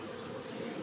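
Honeybees buzzing in an open hive during a spring check, a faint, steady drone of many insects close by, with no voices.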